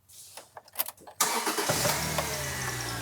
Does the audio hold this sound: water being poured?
no